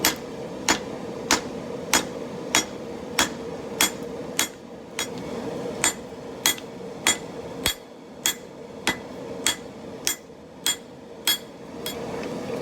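Hot steel is hammered on an anvil with a rounding hammer while forging a spike tomahawk from an old ball peen hammer: about twenty sharp ringing blows at a steady, unhurried rhythm, close and loud.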